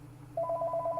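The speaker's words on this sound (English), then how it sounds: "Sorry for the phone in the background." A telephone rings in the background with a short, evenly pulsed electronic tone that starts partway in and repeats rapidly over a low steady hum.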